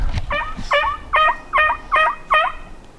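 A wild tom turkey gobbles six times in a steady run of rattling calls, fairly close and clear outdoors on private land during a Nebraska archery spring hunt, with no talk over it.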